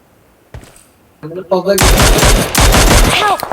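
Loud close bursts of rapid automatic rifle fire in a shooter video game, with an enemy using an M4, coming in dense overlapping volleys after a couple of isolated shots.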